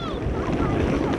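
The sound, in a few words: wind blowing outdoors on a cold day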